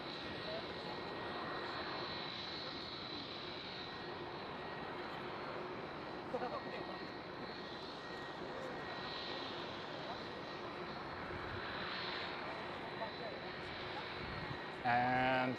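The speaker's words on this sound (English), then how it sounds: "the engines you do hear screaming is this Iceland Air 757 that is starting up" An Icelandair Boeing 757 starts its jet engines at Amsterdam Schiphol airport, giving a continuous distant roar and whine that holds steady for the whole stretch, with a brief louder burst near the end.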